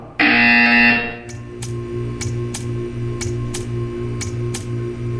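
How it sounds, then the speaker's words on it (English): A loud, harsh electronic buzzer in the video game Portal 2 blares for about a second, then cuts off, leaving a steady mechanical hum with soft regular ticks. "You will hear a buzzer."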